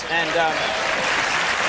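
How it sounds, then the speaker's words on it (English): A late-night talk show studio audience gives a short burst of applause while a voice speaks over it. "Thanks for acknowledging that with applause."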